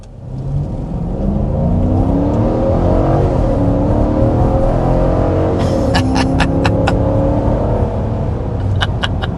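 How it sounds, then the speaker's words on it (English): A 2026 Dodge Durango family SUV with a V8 HEMI accelerates hard, its engine roaring loud and continuous as revs climb steadily, with brief ticking clicks near the end. "we need to go ahead and show you that performance with a hard acceleration"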